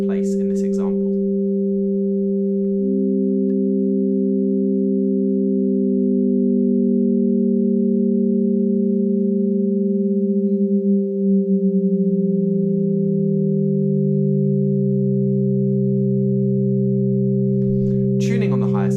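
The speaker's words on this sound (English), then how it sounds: "Listen for the way that the notes beat against one another as they slide into place in this example." Hyasynth prototype custom synthesiser holding sustained pure tones, with one note gliding slowly downward against the steady ones so they beat and waver as it slides into tune; loud and continuous, with no talking.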